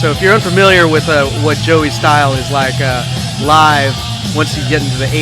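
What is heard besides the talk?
No everyday noises stand out.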